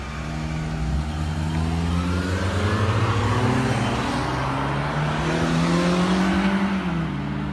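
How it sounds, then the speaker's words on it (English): Drag race between a 2006 Honda Civic and a 1996 Honda Odyssey: steady engine drone with pitch stepping up through gears as the cars accelerate, loud and continuous with no voices. "It's a 2006 Civic versus a 96 Honda Odyssey."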